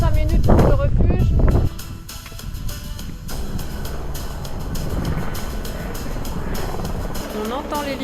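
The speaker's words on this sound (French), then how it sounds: "On entend l'hélicoptère qui dépose des sacs à plusieurs endroits." A helicopter drops off bags at several spots in the Aravis–Bornes Alps near the Pointe Percée hut. It makes a steady rotor thrum and whine at middle distance, with a loud close rustle at the start and no talk.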